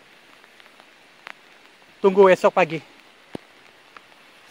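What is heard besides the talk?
rain falling outside a tent at night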